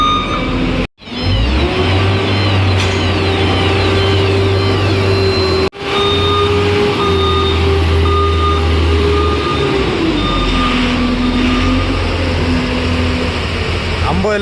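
A truck reverses at a port yard where scrap iron is being loaded, its reversing beeper sounding steadily over a loud, continuous engine rumble, with the engine note rising and falling as it maneuvers.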